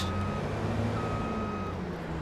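A vehicle's reversing alarm sounds in Farming Simulator 22, a steady high electronic tone held over a low engine rumble, fairly faint and continuous with no talking.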